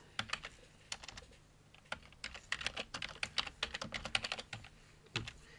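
Fast bursts of typing on a computer keyboard while a SPICE netlist is written: quiet, close key clicks in uneven runs with brief pauses, with no voice over them.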